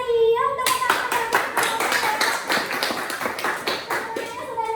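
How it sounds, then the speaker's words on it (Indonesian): Children in a classroom clap together in a rhythmic group pattern of sharp, evenly spaced claps, with a brief voice at the start and end. "Tepuk tangan."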